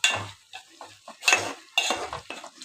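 Onions and curry leaves frying in oil being stirred in a pan, with a few separate bursts of scraping and clinking utensil strokes over a soft sizzle, close and fairly loud.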